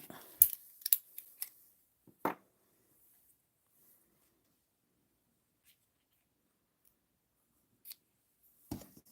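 Scissors make a quick run of close, crisp snips at the start, then a single louder cut, followed by near silence with a few faint clicks and handling sounds toward the end.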